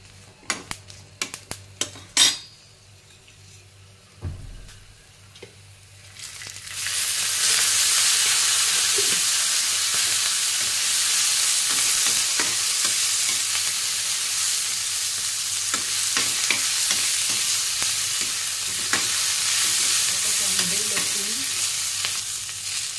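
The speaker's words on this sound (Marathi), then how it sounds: "आता आपण त्यात कडनं तेल सोडून चांगलं भाजून घेणार आहोत।" Green chillies roast in oil in a pan for spicy Maharashtrian mirchi thecha: a few sharp knocks first, then oil hits and a loud, steady sizzle sets in, with occasional stirring scrapes.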